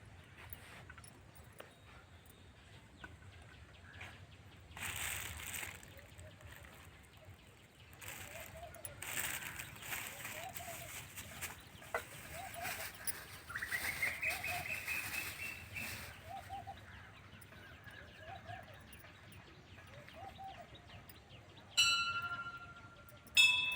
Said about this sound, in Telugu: అసలు పక్షుల సౌండ్స్ మీరు విన్నట్టయితే చాలా రకరకాల సౌండ్స్తో ఉన్నాయన్నమాట